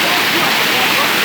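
A waterfall pours in a steady, loud, broadband roar with no breaks, filling the whole stretch evenly.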